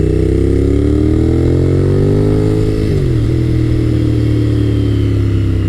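A Honda VTR1000F SuperHawk motorcycle engine drones loudly nearby, its pitch rising under throttle, then dropping sharply under strong engine braking as the rider backs off and the engine settles to a lower hum.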